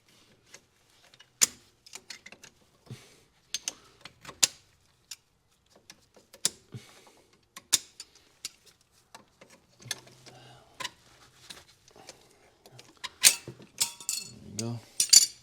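Channel locks grip and pull metal brake caliper pins on an SL500 AMG, giving scattered close clicks, taps and metallic clanks with pauses between, and a voice talks briefly near the end.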